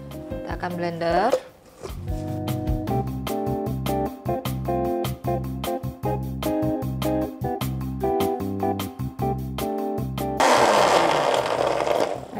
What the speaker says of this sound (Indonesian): Ini nggak apa-apa ya, saya ngeblendernya pakai tepat yang tadi.